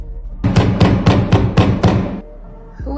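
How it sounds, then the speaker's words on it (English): Five loud, heavy knocks pound on a door in quick, even succession, each a sharp thud, followed by a short pause and a faint trailing sound. "Who is banging on the door right now?"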